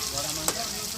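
Food frying in a pan during festival cooking at home, a dense, steady sizzle heard up close, with a brief stir or spatter midway.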